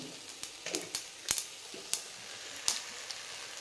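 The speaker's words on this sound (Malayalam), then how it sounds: "ഓക്കെ, കടുക് പൊട്ടുന്നുണ്ട്." Sharp popping and crackling of seeds bursting in hot oil, irregular snaps over a soft sizzle, close and fairly quiet.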